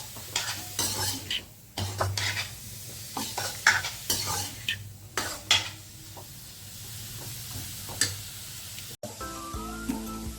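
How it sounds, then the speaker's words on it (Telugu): Paneer being stirred in ghee over a high flame in a pan, a loud continuous sizzle with frequent scraping and clanking of the spatula, ending in a brief clatter. "ఇలా పన్నీర్ని ఇలా బాగా నెయ్యిలో మిక్స్ చేసుకోవాలి. హై ఫ్లేమ్లో పెట్టుకొని ఇలా కలుపుకోవాలండి."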